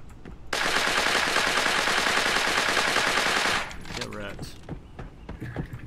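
Rapid automatic gunfire in the shooter game Creative Destruction rattles in one loud, dense burst of about three seconds. Quieter scattered noises and voices follow.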